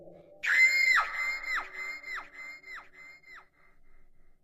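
A woman lets out a sharp scream of shock indoors as she opens a door, a loud high cry followed by several shorter trailing shrieks that fade over about three seconds.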